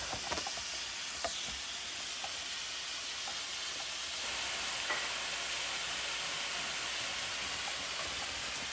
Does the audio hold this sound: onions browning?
yes